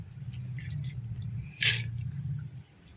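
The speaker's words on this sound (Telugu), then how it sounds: "నేను ఇలా ఆల్రెడీ నానిన బియ్యాన్ని, బాస్మతి రైస్ని వాటర్లో వేసేస్తున్నాను." Soaked basmati rice tipped into a pot of boiling water for vegetable pulao, a short wet splash and patter near the middle over a steady low bubbling simmer.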